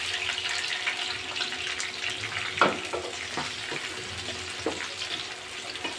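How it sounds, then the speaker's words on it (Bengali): Chili peppers fry in a pan with a soft, steady sizzle of oil, close but fairly quiet, with a few light scrapes and clinks of the spatula scattered through. "মরিচটা আমি হালকা একটু আগে ভেজে নেব"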